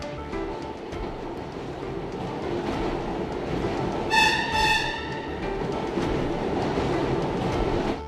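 A New York subway train rumbles along its rails, loud and continuous, with a short high wheel squeal midway and steady clatter throughout, no talking.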